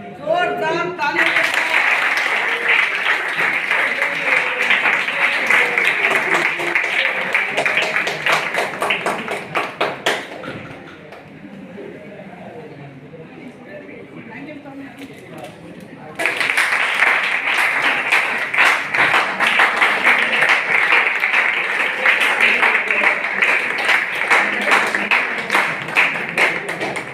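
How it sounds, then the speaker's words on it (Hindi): At a Hindi Diwas function at Government Degree College Adilabad, a large audience claps loudly and continuously. The applause dips to quieter murmuring and scattered claps midway, then surges back just as strong until the end. "जोरदार तालियां।"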